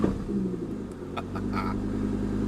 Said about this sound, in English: Oh yeah, that's more crackles.